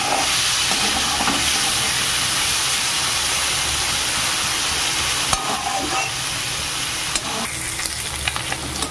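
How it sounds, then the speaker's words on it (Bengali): Small kachki fish fry in a pan, giving a loud, steady, dense sizzle that fills the whole stretch, with occasional sharper crackles and stirring scrapes and no talking. "মাছগুলো এবার ভালো করে ভেজে নিতে হবে।"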